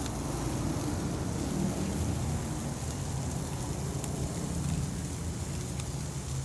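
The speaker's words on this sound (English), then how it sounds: "Now they sound like some sizzle steaks." Steaks sizzle on a grate right above hot coals, a dense, steady hiss and crackle that holds evenly throughout at close range.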